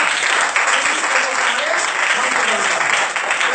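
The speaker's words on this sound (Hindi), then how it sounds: "जोरदार ताली बजाए।" A church congregation applauds loudly and steadily throughout, a dense, continuous wash of clapping from many hands with no break.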